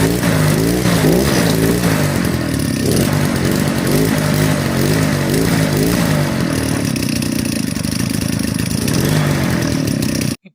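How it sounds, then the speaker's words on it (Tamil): A petrol brush cutter engine runs steadily and loudly up close with a buzzing, revving two-stroke drone that holds throughout, then cuts off abruptly at the end. "இப்போ இன்ஜினும் ஸ்டார்ட் ஆகிடுச்சு."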